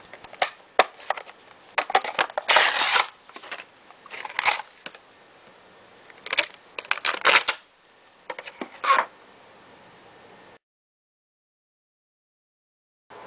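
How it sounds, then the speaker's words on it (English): An Ultraman Zero vinyl figure is pulled from its packaging: bursts of crinkling plastic and cardboard rustle come in irregular clusters, close and fairly loud, then go silent. "Now let's get him out of the packaging."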